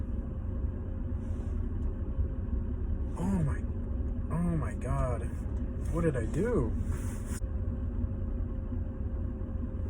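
A BMW 335i with the N55 engine idles after fitting race motor mounts, giving a steady low rumble with strong vibration that runs throughout, while someone talks over it near the middle.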